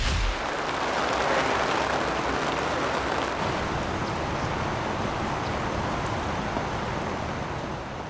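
Steady rain pours down at an outdoor heavy equipment competition for ski loaders, a dense, continuous hiss of falling water that holds at an even, fairly loud level from start to finish with no voices.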